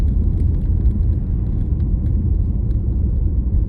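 Steady, loud road rumble from inside a moving car, a continuous low engine and tyre drone with no breaks and no talking.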